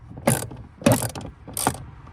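A ratchet wrench with an 11 mm socket turns a bolt during car maintenance, three quick clicking bursts spaced about every 0.6 seconds, close by and with no talk.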